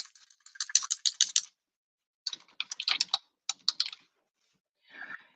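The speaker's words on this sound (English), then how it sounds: "I'm just going to type in my name." Keystrokes on a computer keyboard come in quick clattering bursts separated by pauses, close and clear in a quiet room with no voices.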